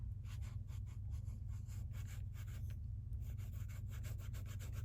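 A Kakimori nib scratches across paper in quick, close strokes while writing with ink, making a continuous dry rasping texture with no talking.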